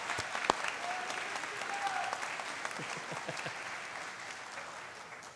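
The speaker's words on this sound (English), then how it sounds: "Let's give her a round of applause, please." Audience applause fills a ceremony hall at a middle college cording ceremony, a steady wash of many hands clapping that holds throughout, gradually thinning toward the end.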